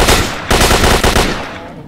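Rapid close gunfire from a weapon in S.T.A.L.K.E.R. Shadow of Chernobyl, a loud opening blast followed by a quick burst of several sharp shots that trail off into echo.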